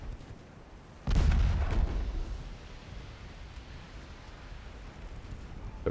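Torpedo detonations and launches in the naval game Ultimate Admiral Dreadnoughts: a sudden heavy boom with a quick second burst, followed by a long rumbling fade over steady background noise, with no talking.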